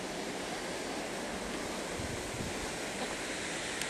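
Water pouring over the spillway of a mountain lake in spring, a continuous broadband rush and roar, steady and fairly close, with no voices.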